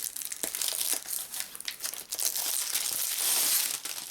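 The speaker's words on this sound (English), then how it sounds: "Nothing weirder than the feeling of old cellophane." Old cellophane wrapping being peeled off trading card packs, a continuous close crinkling and crackling with sharp tearing bursts throughout.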